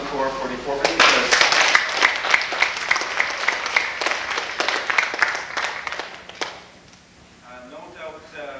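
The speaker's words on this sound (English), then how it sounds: "Another round of applause for the corps for deportment" A crowd applauds a cadet corps with steady, dense clapping that swells quickly and holds for several seconds before fading, followed by a voice beginning to speak.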